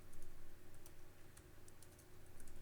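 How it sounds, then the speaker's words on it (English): Soft, quick clicking of computer keys in an irregular rhythm while programming Color BASIC on a Tandy computer, over a low background hum, faint and close. "Typing is hard."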